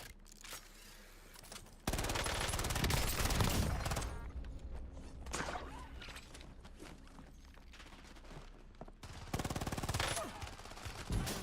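Gunfire in the Call of Duty Warzone video game: loud bursts of rapid automatic fire open and close the stretch, with quieter scattered shots and movement noise between them.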